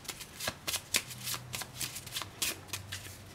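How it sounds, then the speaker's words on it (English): Treasure cards from a HeroQuest board game being shuffled up close, a series of quick riffling bursts and soft slaps in an uneven rhythm, fairly quiet. "what I'm going to do is shuffle my treasure cards again."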